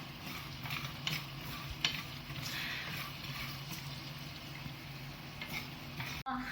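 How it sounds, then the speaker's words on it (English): Whole masalas dry roast in a pan with a soft, steady scraping and light crackle as they are stirred, quiet and close, with a brief knock near the end. "You just have to dry roast the masalas till they are light brown in color"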